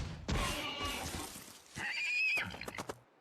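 A horse in the Tales of Xillia video game gives a short neigh with clip-clopping hooves, followed by a second higher whinny and a few sharp knocks, moderately close within a quiet game scene.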